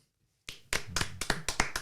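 After a short silence, a small studio audience at a TV game show breaks into clapping: about eight sharp, distinct claps in a loose, quickening rhythm, close and clear with no talk.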